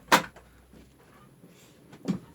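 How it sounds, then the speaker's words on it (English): An indoor door is pulled shut, giving a sharp close near the start and a second thump about two seconds later, both loud and near with a quiet room between them. "I'm just going to close the door."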